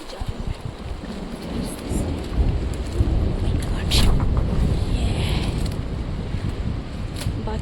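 A steady, heavy downpour drums loudly on surfaces while deep thunder rolls and rumbles through it, building to a stronger crack near the middle before the rain carries on.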